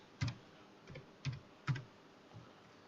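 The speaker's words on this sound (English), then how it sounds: "Go down to the search bar and type in Services." A computer keyboard clacks five times in close succession, the keystrokes sharp and uneven in loudness, with no other sound.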